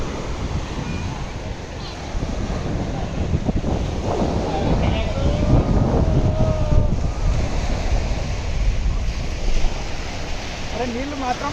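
Sea waves wash onto a beach in Thailand, a constant loud surf roar with strong wind buffeting the microphone, and voices faintly present amid the noise.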